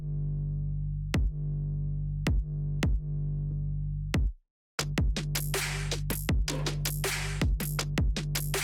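A clicky top kick and a deep 808 bass hit together in an EDM trap beat with a regular pulse. Tighter percussion hits fill the second half after a short drop-out. It sounds loud and present, with no voice.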